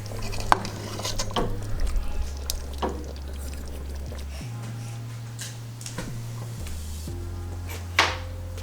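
Cooked chicken pasta being plated into a bowl, with soft clinks of utensil against dish and light scraping, faint and intermittent over a steady low hum.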